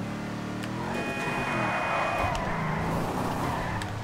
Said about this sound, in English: Now that's how you do a drift